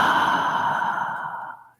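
A single long, soft exhale during guided meditation, close and breathy, steady for over a second before trailing off into silence.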